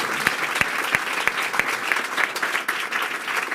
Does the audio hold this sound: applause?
yes